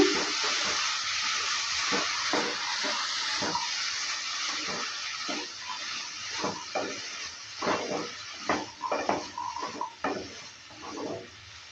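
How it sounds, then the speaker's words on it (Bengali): Chana masala being stirred in a pan after lemon juice is added, a run of soft wet scraping and sloshing strokes over a steady hiss, growing more uneven and louder toward the end. "লেবুর রসটা দেওয়ার পর ভালো করে আবারও নেড়ে চেড়ে নিচ্ছি"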